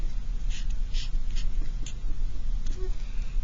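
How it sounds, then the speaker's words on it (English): Pen strokes writing a plan on paper make a series of short, soft scratchy bursts over a steady low room hum, close and quiet. "I'm going to go ahead and write my plan over to the side"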